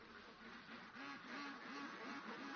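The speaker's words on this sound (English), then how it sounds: "Over 800 ducks in his village are all under his care." A flock of over 800 domestic ducks in a village, a repeated series of quacks at a steady rhythm, faint and somewhat distant over a constant background hiss.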